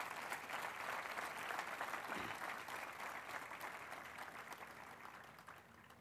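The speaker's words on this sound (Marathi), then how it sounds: "मला वाटतंय काकांजींसाठी एकदा जोरदार टाळ्या वाजवायला पाहिजे" An audience at a community talk applauds, a continuous, fairly faint wash of clapping that slowly tapers off over several seconds.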